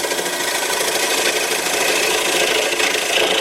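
A homemade bowl gouge makes inside cuts in wood spinning on a lathe, a continuous loud scraping hiss with a steady motor hum, uninterrupted and close.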